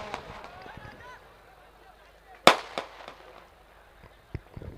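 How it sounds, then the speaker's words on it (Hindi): Firecrackers pop in sharp, scattered bursts at an outdoor village sports final, one loud crack standing out among fainter pops over crowd noise and an announcer talking. "आप देख सकते हैं पटाखों की आतिशबाजी"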